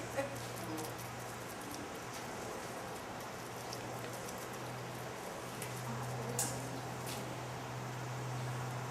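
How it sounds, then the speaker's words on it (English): Rain falls just outside a doorway at a stable where a horse is having its hooves cared for, a soft, steady patter with a low constant hum beneath and faint occasional knocks. "Right out the door, it's raining."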